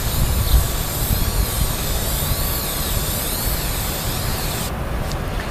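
A steady hiss of spraying oil from an aerosol can onto a K&N air filter, continuous and close, with a brief break near the end.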